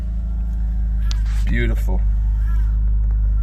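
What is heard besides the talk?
BMW E93 engine idling after mass airflow sensor fix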